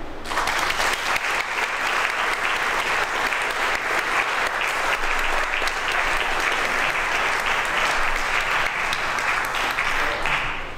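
Sustained applause from a lecture audience greeting the professor who opens a memorial lecture series, steady dense clapping filling the whole stretch with no voices over it.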